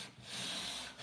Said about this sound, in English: And I still sand, and I'm still sanding it